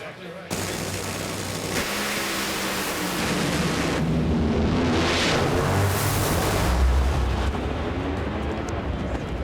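A nitro dragster engine roars loudly and continuously at an NHRA drag race, with a sudden blast-like surge near the start as a dropped intake valve ignites fuel in the cylinder, then a sustained rumbling, crackling roar.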